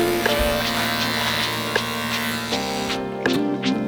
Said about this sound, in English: Had to let my trimmer charge overnight because it died while I was trimming.